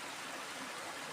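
Mountain water rushes steadily down a stream in a rural hillside area, a continuous broadband hiss of flowing water, faint and even, with no voices.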